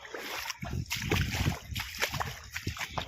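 Water flows and splashes across a farm field in uneven sloshing bursts and gurgles, close by, with no clear talk.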